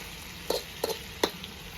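Eggplant frying over a homemade steel fire stove, a soft steady sizzle with three brief knocks of stirring or scraping standing out, faint and close, no voices.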